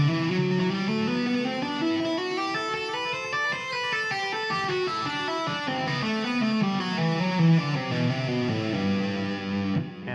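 Electric guitar plays fast two-hand tapped runs stepping up and down a diatonic scale, with bright, slightly distorted tone and steady flowing note patterns, no voices.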